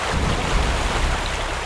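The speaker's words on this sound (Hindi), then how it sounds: "सामने देखो, वाटरफॉल कितना सुंदर है ना पायल?" A waterfall roars steadily at close range, a dense, unbroken wash of falling water with heavy low rumble and no voices over it.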